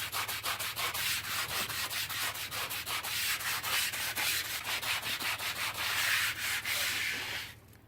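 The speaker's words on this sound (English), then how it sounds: "I only need to give it a light sanding" Close, steady sanding strokes with sandpaper on a wooden LARP hammer, a rapid rhythmic rasping that carries on unbroken before stopping abruptly at the end.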